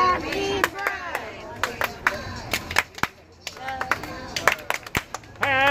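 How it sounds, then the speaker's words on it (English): Hands clapping among an audience at a Pride storytime, sharp scattered claps in short bursts under lively singing and chanting voices, close and irregular. "Clap your hands."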